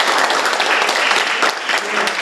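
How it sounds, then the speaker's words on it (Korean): Audience in a seated gallery applauding at the close of a panel event, a continuous burst of many hands clapping, close and even throughout. "방청석을 위해서 박수 부탁드립니다."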